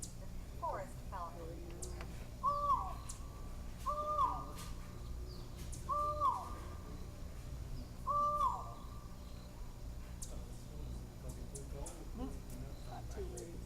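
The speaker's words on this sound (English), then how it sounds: "Forest Falcon." A forest falcon at a neotropical feeding station near Las Cruces gives a run of four repeated hoarse, hooting calls, evenly spaced, over quieter chatter from smaller birds. People talk softly around it.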